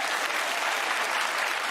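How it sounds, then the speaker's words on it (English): A studio audience at a comedy panel show applauds in a dense, steady wash of clapping that stays loud and even throughout, with no voices on top. "Big round of applause to you."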